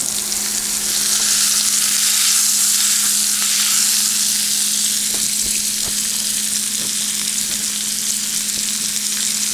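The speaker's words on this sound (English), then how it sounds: "On goes the steak." Steak and vegetables hiss on a hot grill in a loud, dense, continuous sizzle that holds steady throughout, heard up close with no voices.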